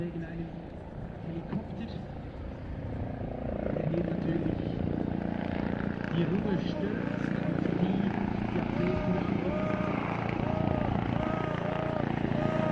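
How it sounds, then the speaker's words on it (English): A helicopter passes over a World Para Athletics Grand Prix stadium in Nottwil, its rotor drone swelling and holding steady beneath voices. "There's a helicopter just going over, which for obvious reasons will be a complete distraction."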